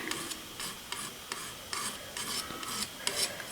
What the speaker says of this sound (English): I'm just going to scrape on what's left over my knife there now